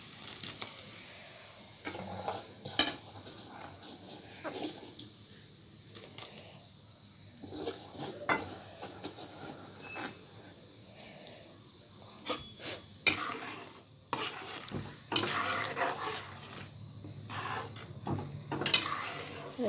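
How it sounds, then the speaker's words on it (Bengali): Dal with jackfruit seeds cooking in a pot on the stove, with intermittent stirring scrapes and soft bubbling and sizzling, quiet throughout with occasional louder clatters against the pot. "জলটা ফুটলে তারপরে কাঁঠালের আটিগুলো দিয়ে দেবো।"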